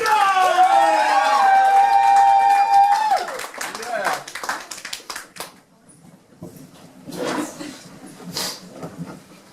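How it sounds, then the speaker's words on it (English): A stand-up comedy audience cheers with a whoop, then claps and stomps in scattered, uneven bursts that thin out and grow fainter. "Let's hear those feet stomping. Let's hear those hands clapping."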